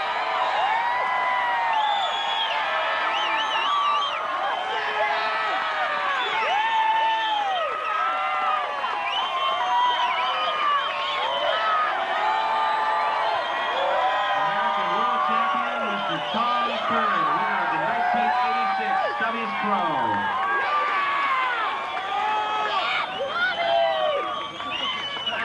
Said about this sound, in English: Big round of applause for former 2-time world champion Tom Carroll, 2nd place